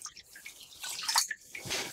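A cup of water splashes into a hot pan, hissing and dripping in a short burst while making a blueberry syrup for a cocktail.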